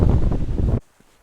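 Strong wind roars across the microphone in a misty forest for under a second, loud and buffeting, then cuts off to near silence.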